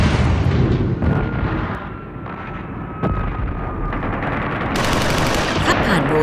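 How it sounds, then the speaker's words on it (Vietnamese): Gunfire in Hanoi during fighting against French colonial forces: dense, continuous rattling bursts with heavy booms, loud and sustained throughout. "Khắp Hà Nội rền vang tiếng súng đánh trả thực dân Pháp"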